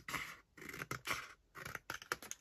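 Scissors cutting paper for a craft envelope pocket, several quick crisp snips in two short bursts, close and quiet.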